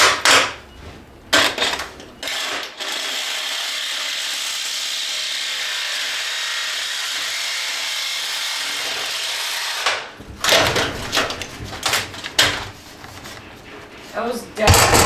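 Power tool cutting through the folds of metal mobile home siding, a steady harsh whine lasting several seconds, bracketed by clattering handling noises and brief bursts of cutting.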